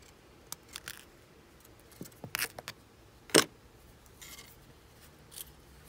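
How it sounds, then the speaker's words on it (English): Jewelry weaving wire on a wire-wrapped pendant is snipped with cutters, giving a few sharp, brief metallic clicks spread over a few seconds against quiet background handling noise. "Cut that weaving wire."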